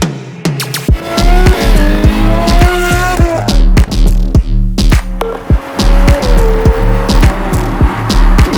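A Novitec-tuned Ferrari 812 GTS N-Largo S with its naturally aspirated V12 revs hard nearby, loud blips rising and falling with sharp crackles and pops between them, no talking.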